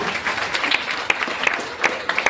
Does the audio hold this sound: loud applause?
yes